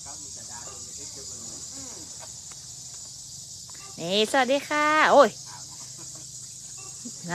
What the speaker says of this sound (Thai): สามได้ยินเสียงตุ๊กแกกันไหมเอ่ยเมื่อกี้